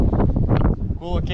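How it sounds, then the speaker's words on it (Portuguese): Strong gusty wind batters the microphone outdoors during a lambari broodstock catch, a loud, continuous rumbling roar with a brief voice-like sound toward the end. "Ó o vento."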